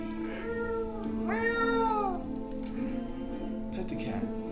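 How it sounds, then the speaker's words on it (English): A cat in a first-person horror video game gives a single drawn-out meow over steady game ambience, with a voice speaking around it. "Look at that cat."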